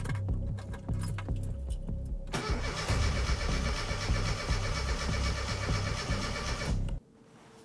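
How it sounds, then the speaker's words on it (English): A long-stored Classic Mini's engine cranks steadily for several seconds, a close, loud churning whir from the starter that fails to catch and cuts off abruptly, leaving a quiet hum. "Starting the engine for the first time in who knows how long."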